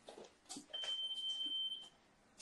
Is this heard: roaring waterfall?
no